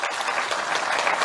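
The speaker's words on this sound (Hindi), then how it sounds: "जोर से ताली बजाइए अगर बजानी है तो" Audience applause at a Raj Bhavan award ceremony honouring district magistrates, a steady dense wash of many hands clapping throughout, fairly close and full.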